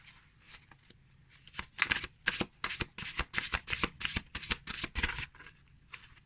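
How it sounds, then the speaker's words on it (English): Large tarot cards are riffle shuffled up close, with a quick burst of crisp fluttering card riffles in rapid succession, surrounded by faint handling sounds and near silence. "I will have to get used to trying to riffle shuffle large cards like this"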